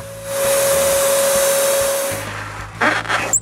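Paint sprayer hissing varnish onto wooden planks, a steady loud whoosh with a faint motor whine lasting about two seconds, then stopping and giving way to a few brief clattering handling noises.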